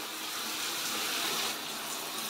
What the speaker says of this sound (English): Turn the shower back on now!